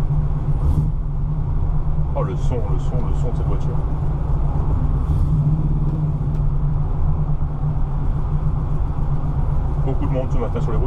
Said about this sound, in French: Oh, le son de cette voiture.